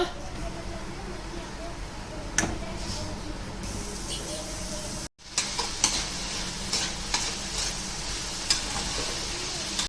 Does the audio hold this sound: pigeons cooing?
no